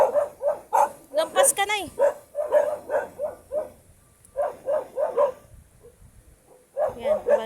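A dog barks repeatedly in quick bursts near a flooded river in the Philippines, loud and close, with people talking over and between the barks.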